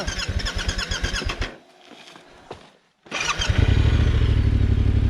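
Motorcycle engine, a Husqvarna 701 or Yamaha Tenere 700, chugging unevenly and then cutting out. After a short quiet stretch it fires up again into a loud, steady idle close by.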